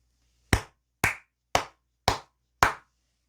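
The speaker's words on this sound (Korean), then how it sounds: "크게 박수 한번 치고 가도록 하겠습니다" Five sharp hand claps sound alone, close and evenly spaced about half a second apart, each with a crisp attack and a quick decay into silence.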